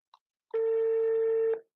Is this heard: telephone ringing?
yes